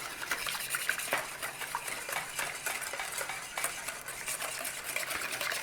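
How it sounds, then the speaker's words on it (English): A utensil stirs a Baileys Irish cream mousse mixture in a pan, giving soft repeated scraping and light clinks against the side, quiet and steady with no talking. "So I'm just stirring it in with this, and then I'm going to use a spatula."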